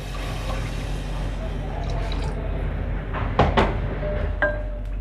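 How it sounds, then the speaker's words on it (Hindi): Water poured into a cooking pot of moong dal mangochiyan curry with tomatoes, a liquid splash and drip under a steady low hum, with a few sharper pours and splashes near the end, close by. "तो अब हम इसमें डाल देंगे पानी इसमें मैं डाल दूँगी 4 कप।"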